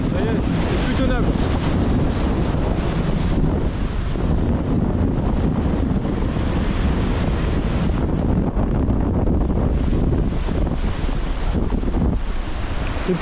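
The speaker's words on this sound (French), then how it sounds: "le vent est fort, si, un truc de malade" Strong, constant storm wind roars across the microphone on the shore, with crashing waves and water noise underneath, steady and loud throughout.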